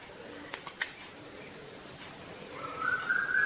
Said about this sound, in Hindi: आज तो कोयल बोल रही है जबरदस्त।